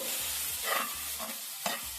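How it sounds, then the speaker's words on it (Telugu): A spoon scrapes repeatedly around a frying pan in slow strokes while okra curry with puree sizzles steadily underneath. "చక్కగా ప్యూరీ అంతా కూడా కలిసిపోయేలాగా మనము కలుపుకోవాలి"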